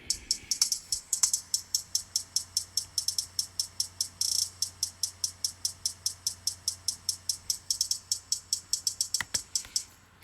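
Triplet hi-hat row programmed in FL Studio with reverb, a fast steady train of crisp, airy ticks with a spacious wash, evenly repeating for ten seconds at moderate volume, alone without talking.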